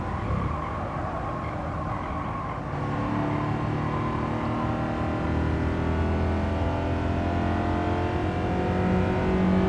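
Race car engines drone and rev in Gran Turismo 7 video game, a loud sustained whine that climbs in pitch as cars accelerate, heard alone with no talk.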